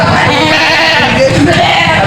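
Goats bleat amid a loud, busy outdoor livestock market din, with short wavering calls rising over a steady background of noise.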